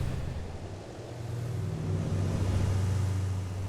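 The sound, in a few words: steady engine sound of moving cubes, UE5 MetaSound Doppler simulation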